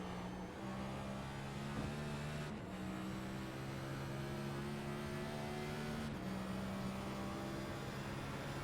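Racing car engine in a sim racing game at the Monza circuit, a steady high droning whine held at near-constant pitch with two quick gear-shift dips, loud and continuous with no voices.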